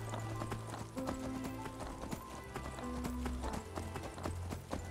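Horse hooves clip-clop in a steady rhythm as a purchased horse travels in the video game Skyrim, under quiet background music.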